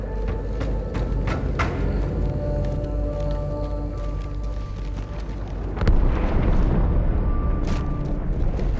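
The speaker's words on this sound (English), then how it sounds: "That explosion came from inside the Athens." A game explosion in Halo 2 rumbles as a dense, heavy roar with scattered crackles and sharp bursts, then swells louder with a deep boom near the end.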